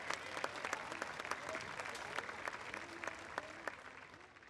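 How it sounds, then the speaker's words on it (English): Crowd applause at an outdoor park opening ceremony, a steady run of scattered hand claps from a modest audience lasting several seconds with no talk over it. "How about a little hand clap?"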